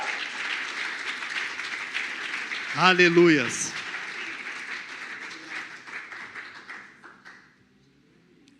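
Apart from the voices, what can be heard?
church congregation applause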